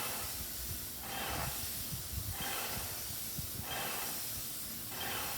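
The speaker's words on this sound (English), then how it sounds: "So he sprays the floor back and forth, then horizontal spraying back and forth," A disinfectant sprayer's steady hissing spray sweeps back and forth across a floor, swelling and fading in regular waves, with a low mechanical rumble underneath.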